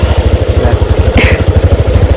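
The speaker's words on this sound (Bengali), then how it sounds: "কিন্তু আজকে প্রথম তোমার মোটর সাইকেলে চললাম" A small motorcycle carrying a passenger on a village ride, its engine thumping in a steady, rapid low pulse throughout, close and fairly loud with no voices.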